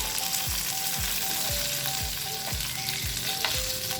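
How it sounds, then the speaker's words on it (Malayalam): Kerala-style fish fillets frying crisp in hot oil in a pan, a steady loud sizzle with regular scraping turns of a spatula roughly every half second. "എല്ലാ സൈഡും തിരിച്ചും മറിച്ചിട്ട് നന്നായിട്ട് മൊരിയിച്ചെടുക്കണേ."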